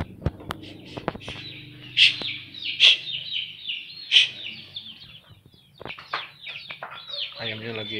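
Chickens and a rooster cluck and call in a yard at a rural home in Tanjung Sari, Sumedang, where they live alongside cats; sharp, fairly close calls ring out several times amid scattered chirps and low background noise.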